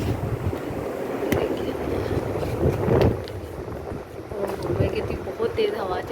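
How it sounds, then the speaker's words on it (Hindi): Strong wind buffeting the microphone with a loud, continuous rumble, gusting up and down. "बहुत तेज़ हवा चलने लग गई है।"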